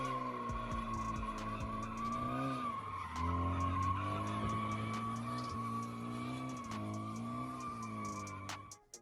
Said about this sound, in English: Yes, a drifting Hyundai.